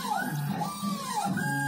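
A homemade mini CNC router engraver driven by a USB CNC controller and G540 stepper driver moves its axes, giving a steady whining stepper-motor tone with gliding pitch sweeps as speed changes, close and continuous, with no talking.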